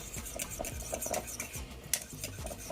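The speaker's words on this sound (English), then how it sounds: "Give this a little mix" Chickpeas and saltfish with coconut milk stirred in a pot, a spoon scraping and clinking against the metal in short, close, irregular strokes with no voices.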